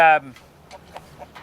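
A rooster on a farm gives a short loud call at the start, followed by a few faint scattered clucks in an otherwise quiet barnyard.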